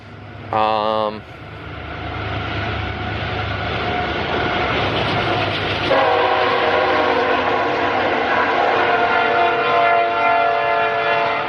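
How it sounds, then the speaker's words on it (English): A train horn blasts briefly, then a loud, steady rumble of a train passing nearby holds for several seconds with grinding metallic tones. "Before the train rudely interrupted the filming session right here."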